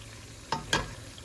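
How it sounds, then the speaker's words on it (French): Ingredients fry in very hot oil for a sauce, with two quick crackling sizzle pops over a faint steady background hiss. "Je laisse frire mes ingrédients, évidemment, avec de l'huile bien chaude."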